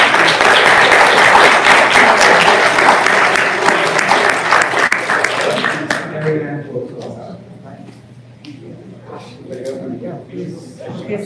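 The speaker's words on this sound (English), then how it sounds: "Clap for everyone, for all the panelists." A packed audience applauds the panelists at the end of a congressional public policy panel on the Hispanic experience in higher education; loud dense clapping fades over several seconds and gives way to a voice speaking.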